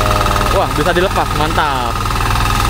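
A Quick FTL620 hand tractor engine runs steadily and loudly in a field, a continuous mechanical drone under a man's excited speech.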